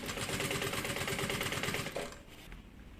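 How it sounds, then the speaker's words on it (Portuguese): A sewing machine stitches a seam on a medium double-opening bag in a fast, even mechanical chatter for about two seconds, then stops abruptly, leaving a quiet room with a faint click. "E aqui na frente eu passo uma costurinha."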